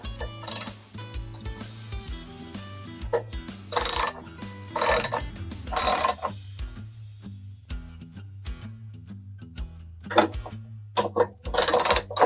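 7/16 or 11 mm bolts being tightened on a Lawnboy lawnmower with a ratchet, bursts of rapid close clicking spread across the clip with metallic clinks and pauses between, no voices.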